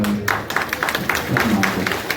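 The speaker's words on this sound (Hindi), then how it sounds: "कृपया मुख्य अतिथि महोदय के सम्मान में जोरदार ताली बजाकर" Applause from an audience at a parade, honoring the chief guest: a short, dense burst of crowd clapping, fairly close and loud, with voices mixed in.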